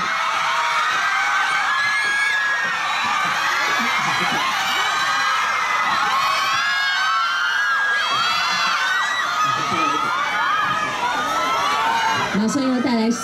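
A packed crowd at a fan signing event for a pop group screams, cheers and whoops continuously in high-pitched excited voices, a dense roar that persists throughout with a few sharper shouts near the end.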